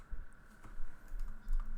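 Typing on a computer keyboard with soft, close, irregular keystrokes at a quiet level and no voices, while someone works in TeXMaker on Linux Mint.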